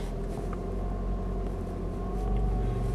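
Chrysler Voyager TD diesel engine driving in first gear, a steady low rumbling drone with even tone, heard from inside the vehicle and holding constant throughout.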